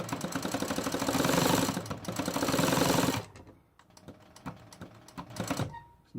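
A Consew 206RB-2 walking-foot industrial sewing machine with a servo motor runs in a steady, rapid stitching clatter for about three seconds, then slows to a few quiet, spaced clicks.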